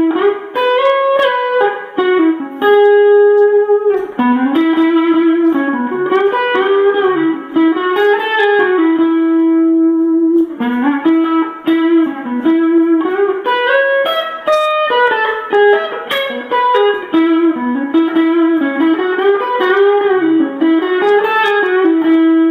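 Electric guitar lead played through a hand-wound Alnico 3 PAF neck pickup, a continuous melodic line of sustained notes and bends with mild overdrive, steady and loud throughout with no talk.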